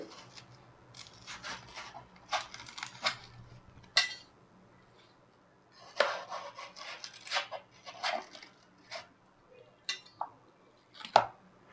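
A kitchen knife cuts the rind off thick watermelon slices in a series of quiet, uneven crunches and scraping strokes, with short pauses between the cuts.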